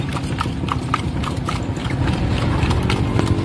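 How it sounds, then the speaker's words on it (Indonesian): Hooves of two horses pulling a carriage clip-clop along a roadside in a steady, fairly loud rhythm, with a low rumbling background under the hoofbeats. "Kereta kuda dan 2 ekor kuda yang ditarik oleh kereta kuda berhenti di depan sebuah gardu di pinggir jalan."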